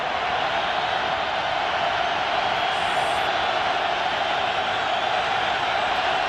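Stadium crowd roaring at a Broncos vs Chiefs football game on Thanksgiving 2006, a dense, steady wall of noise that holds at full volume for the whole stretch, with no pauses or clear individual voices.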